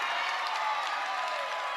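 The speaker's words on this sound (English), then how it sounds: "And a sarcastic round of applause from the Hayes High sideline." A sarcastic round of applause rises from the Hays High sideline at a girls' sub-state final basketball game, a brief, steady wash of clapping heard throughout with no voices over it.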